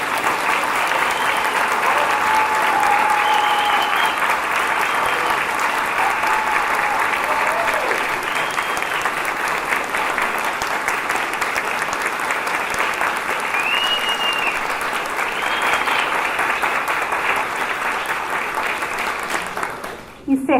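Sustained applause from an audience at a Bahá'í community gathering in São Caetano do Sul, a dense, steady wash of clapping lasting about twenty seconds before tapering off at the end, with faint whistles or voices mixed in.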